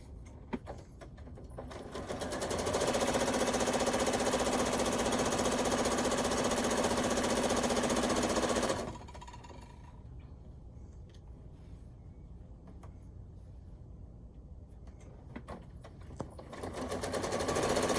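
A sewing machine stitches quilt strips with a fast, loud mechanical chatter for several seconds, then stops, and a brief run of stitching starts again near the end.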